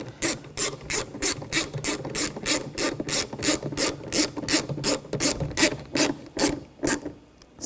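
Screws being tightened on a rear window regulator of a 2007-2013 BMW X5, a close, rhythmic series of sharp ratcheting clicks repeating steadily for several seconds, heard alone with no talking.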